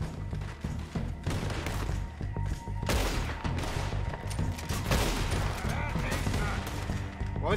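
Rapid gunfire from the video game Red Dead Redemption 2, a dense volley of shots and fusillades sounding loud and continuous throughout, with game music and effects mixed in.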